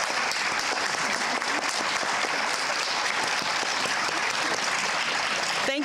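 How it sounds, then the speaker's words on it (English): A crowd at a staff recognition awards ceremony breaks into loud, sustained applause, a thick, continuous roar of clapping that holds steady from start to finish. "Please join me in giving them another round of applause."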